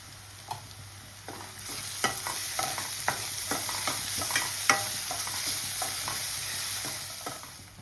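Onions with turmeric fry in a pan for a fish curry, sizzling under a low hum, while a spatula stirs with a steady run of distinct scraping strokes, close and fairly loud.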